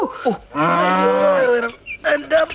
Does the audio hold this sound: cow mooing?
yes